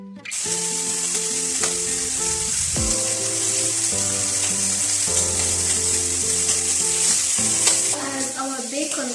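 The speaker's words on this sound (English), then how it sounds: "As our bacon cooks, you can hear it sizzling." Bacon slices frying in a pan, a loud continuous hiss and crackle under steady tonal music throughout.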